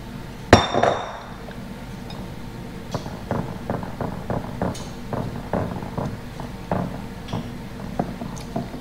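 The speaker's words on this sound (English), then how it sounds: "now I'm gonna mix my dry ingredients to the liquid one" Dry ingredients being mixed into the liquid for moist banana bread batter, a sharp clink at the start followed by a steady run of soft, rhythmic scraping and tapping strokes, close up, with no talking.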